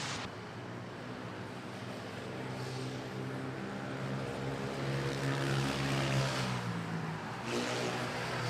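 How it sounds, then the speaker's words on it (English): A Philippine Airlines Airbus A320 arriving at Manila Airport, a broad distant jet roar that swells and rumbles steadily as it comes in to touch down, with no voices. "Philippine Airlines from Lawag, about to touch down,"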